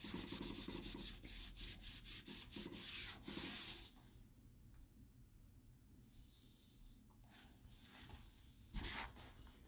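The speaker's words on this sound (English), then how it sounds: "I kind of buff it as I wax, which is what you'll see." Rag buffing wax onto a painted bathroom vanity, close soft rubbing strokes in quick rhythmic bursts at first, then slower, quieter wiping with a few louder swipes toward the end.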